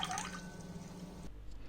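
Rice for kheer (rice pudding) being washed in water, giving a soft, faint wet sloshing and dripping that changes abruptly near the end; no speech.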